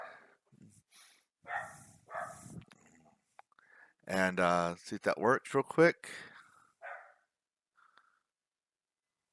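Dogs indoors bark in a brief, loud burst of several barks and yips, set off by a doorbell on TV, while someone talks quietly before and after.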